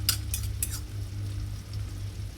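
Onions being stirred in a pan, with a few quick scraping clinks of a utensil at the start over a soft continuous sizzle and a low background hum.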